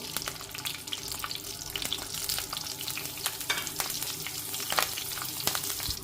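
Asafoetida and curry leaves tempering in hot ghee, a bright crackling sizzle with sharp pops and spatters, steady and close with occasional stirring scrapes.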